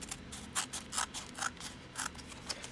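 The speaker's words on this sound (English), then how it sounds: "We'll cut it open and take a look." Scissors snipping open a flimsy mailer holding an Alpha Magic card, a series of quiet crisp close snips in an irregular rhythm with no talk.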